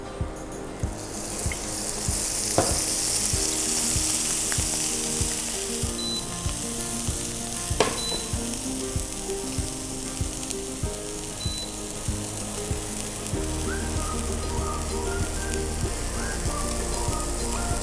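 Scallops sear in a small amount of oil, giving a steady, fairly loud sizzle that runs throughout, with occasional light clicks and utensil taps over the constant hiss.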